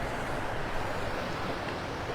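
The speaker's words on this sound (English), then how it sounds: "You can see the waves like breaking over the outer edge of it." Ocean waves breaking at Vanderbilt Beach in North Naples, Florida, a steady broadband wash of surf mixed with wind noise, with no talking.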